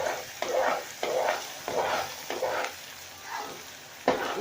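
Kheer, a milk rice pudding, being stirred in a pot, with repeated scraping swishes of a spoon at a steady rhythm of about one stroke per half second and a soft simmering sizzle underneath.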